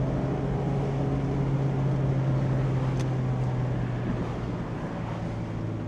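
Mazda Miata engine while driving, a constant low drone from the engine under heavy road and wind rush, loud and unbroken throughout.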